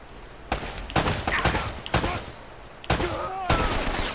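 Sharp gunshots in Uncharted: Drake's Fortune crack out roughly every half second, loud and close, mixed with game voices and brief chatter between shots.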